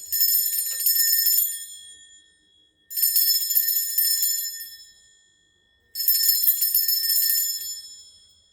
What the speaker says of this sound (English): I'm going to ring a bell. This is just to cleanse the space around us.